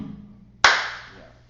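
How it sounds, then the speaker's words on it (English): One sharp, close hand clap rings out after a quiet low hum, leaving a short bright decay that fades within a second. "I keep clapping near that thing"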